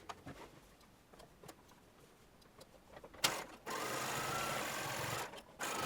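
A sewing machine stitching a dress seam: a few faint clicks and handling taps at first, then a steady whirring run of stitching starts about halfway and continues with one short pause.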